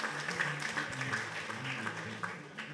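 Faint, diffuse audience applause at the Miss NC 2020 pageant, a steady wash of many hands clapping heard from a distance for a few seconds.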